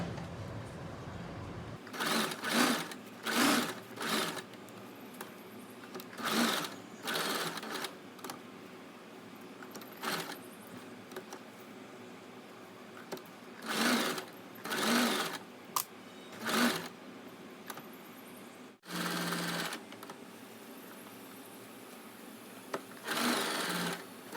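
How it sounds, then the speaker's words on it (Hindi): A sewing machine stitching a kurti neckline alongside buckram patti runs in short, close bursts of rapid mechanical whirring and clatter, stopping and restarting about a dozen times with quiet pauses between runs. "अब हम इस तरह से बुकरम के बगल बगल सिलाई लगा लेंगे"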